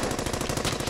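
Rapid automatic gunfire in the World War II shooter Brothers in Arms: Hell's Highway, a steady fast rattle of shots, loud and close, with no break for its whole short length.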